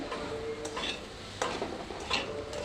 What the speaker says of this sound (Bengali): এই তো ভাজি বসাইছি। ঢেঁড়স ভাজি লাল লাল করে ভাজি